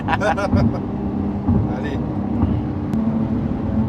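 A Lamborghini STO with four-wheel drive drives around Monaco, its engine a steady low drone under loud conversation throughout.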